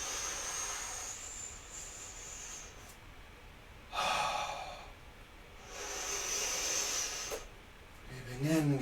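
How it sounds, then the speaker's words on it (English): Slow, deep breaths drawn in and let out during a seated yoga twist, each long airy inhale and exhale audible and close, with quiet pauses between them. "Breathing in, get longer from the toes to your head. Breathing out, letting go here completely."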